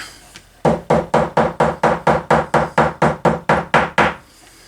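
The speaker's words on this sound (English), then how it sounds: "Grab a hammer." A hammer taps leather for a bifold wallet in a quick, steady run of about fifteen evenly spaced, sharp knocks, close and loud, then stops.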